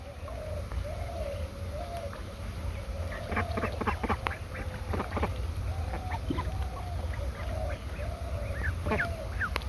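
Ducks swim on village water on a rainy morning, quacking in a string of short nasal calls, some close and loud, with a constant wash of rain and other birds behind.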